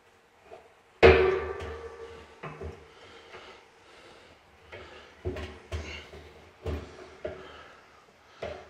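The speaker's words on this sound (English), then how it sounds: "we're just going to see if we can unscrew this now" A pipe wrench clanks against a metal gate valve on a steel drum smoker, one sharp loud metallic bang followed by scattered knocks, scrapes and clunks of the fitting being worked loose.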